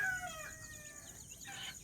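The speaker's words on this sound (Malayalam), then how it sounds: "കാണുന്നത് ലൈനേജിൽ പെട്ട കോഴിക്കുട്ടിയാണ് കേട്ടോ" Young chick of a poultry breed line feeding alone, giving faint high chirps and peeps over a steady outdoor background hum.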